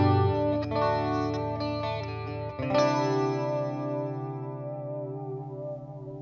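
An electric guitar through a Boss Katana 50 MkII amp plays with a modulation effect, a clean, shimmering tone that is sustained and wavering, with a new chord struck midway and left to ring out.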